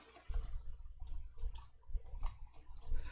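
Quiet computer mouse clicks during Excel spreadsheet work, a dozen or so light, sharp taps in an irregular rhythm with soft low room noise beneath.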